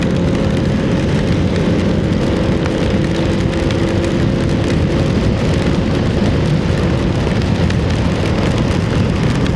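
Heavy rain pours steadily on a small farm during a typhoon, a loud, dense, unbroken roar with no voices.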